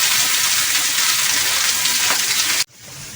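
Onions fry in a pan with a loud, dense sizzle that holds steady for over two seconds and then drops sharply as it quiets down.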